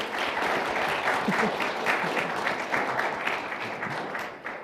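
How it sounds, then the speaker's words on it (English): Steady audience applause for panel guests at a climate and media event, a dense continuous wash of clapping from a crowd throughout. "Just a big round of applause for all of you."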